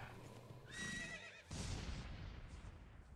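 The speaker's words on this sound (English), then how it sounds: "Gotta love all the zombies on horses" Zombie horses in Minecraft let out two loud, close whinnies, one after the other, over a constant game background hum with no talking.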